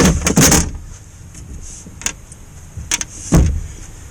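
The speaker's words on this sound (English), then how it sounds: "Then put your window up." A Mercedes power window running up inside the door during a window regulator job, with a steady motor whir between several sharp clicks and knocks from the door, close and alone.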